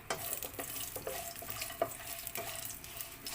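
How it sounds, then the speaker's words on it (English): Whole spices (bay leaves, cardamom, black peppercorns, cloves, cinnamon stick and star anise) sautéing in a pan for cuttlefish adobo, giving a soft, steady sizzle with light stirring clicks and scrapes throughout. "Just saute for a while."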